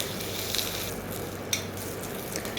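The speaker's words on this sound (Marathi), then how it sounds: "हलवत छान भाजून घ्यायचं आहे मिरचीवर पण छान डाग आले पाहिजेत" Green chilies being stir-roasted in a pan until they blister, a steady close sizzle with a few scraping stir sounds, no speech.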